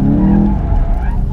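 A VW Golf GTI TCR circles a skid pan circuit, its engine droning low and loud with a brief tire squeal in a short close burst.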